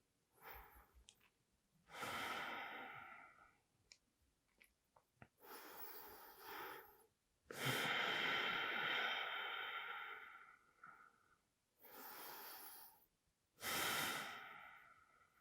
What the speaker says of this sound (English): My apologies for the heavy breaths.